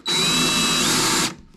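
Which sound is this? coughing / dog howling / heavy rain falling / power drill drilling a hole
power drill drilling a hole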